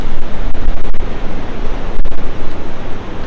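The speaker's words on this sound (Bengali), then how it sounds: "পাহাড়ের পাথরের মধ্যে ঢেউগুলো ভাঙছে, তো যা গর্জন না, কি বলবো।" Sea waves crash and break against rocks below a fort wall on an offbeat beach in South Goa, Vasco, a loud continuous roar of surf with wind noise and a few sharp bursts.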